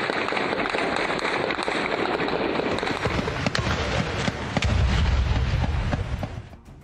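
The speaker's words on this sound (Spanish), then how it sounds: "vamos a escuchar algunos de esos brutales disparos" Gunfire rings out during an ambush by cartel gunmen in a convoy of about ten vehicles on police agents in Mexico. Rapid, dense bursts of shots crackle continuously, loud and echoing, with heavier booming blasts near the end.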